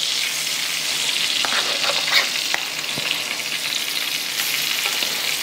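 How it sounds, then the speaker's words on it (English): Fish for blackened fish tacos sizzles loudly in a heated pan, a close and continuous frying hiss dotted with sharp crackles and pops, with no voices. "We'll let this pan get heated up. We'll toss the fish in, get to cooking."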